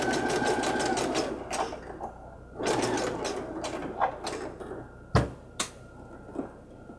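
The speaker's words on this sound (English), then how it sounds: "We'll do a little back stitch at the beginning." Sewing machine stitching a seam in tulle with a little back stitch at the start, heard as short bursts of rapid mechanical whirring separated by pauses and light clicks, close and moderately quiet.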